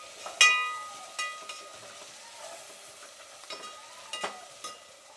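Chopped tomatoes stirred in a hot pan for moong dal khichdi, with soft sizzling under scattered scrapes and clinks of a spoon against the metal, fairly quiet and close.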